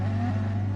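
A BMW race car engine in a racing video game holds at high revs on the grid before the start, a steady droning buzz with a strong low hum, loud and close.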